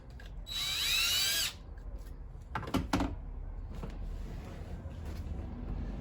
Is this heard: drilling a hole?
yes